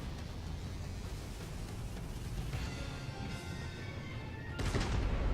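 Secondary guns keep firing from a warship in World of Warships, a steady wash of distant gunfire and rumble with a louder burst near the end.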